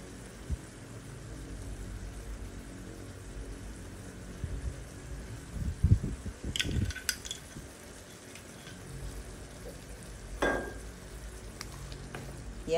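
Chicken frying with soy sauce and oyster sauce in a pan, a steady moderate sizzle with a burst of stirring scrapes and utensil clatter midway and another knock later.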